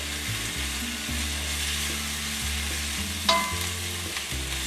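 Pre-cooked asparagus and peppers frying in a pan, a steady sizzle with shifting stirring scrapes and a brief sharp clink near the end, no voices.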